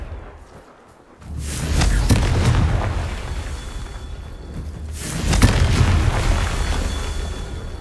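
A Confringo spell explodes in Hogwarts Legacy, with two heavy booms a few seconds apart, each rolling into a long, loud rumble.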